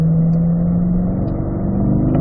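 Car engine held at high revs near the rev limiter, a steady loud droning hum with a sustained buzzy tone throughout, close and unbroken, with no voices.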